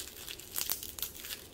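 Plastic packaging wrapped in lots of tape crinkles and crackles close up during a diamond painting unboxing, with brief bursts of handling and no talking.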